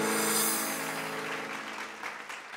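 Loud applause from an audience at a televised dance competition for mothers, a dense burst of clapping that fades slightly over a couple of seconds.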